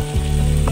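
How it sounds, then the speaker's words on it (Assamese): Salt and turmeric sizzle as they fry in a pan for a no-onion, no-garlic paneer masala gravy: a brief, steady close-up crackle with a soft scrape near the end. "মই পেনখনত অকণমান সময় এখিনি ফ্রাই কৰিবলৈ লৈছো"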